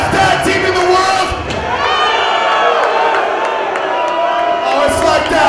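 A wrestling arena crowd at a Lucha Brothers tag-team match roars and cheers loudly and continuously, with whoops and shouts rising through the noise.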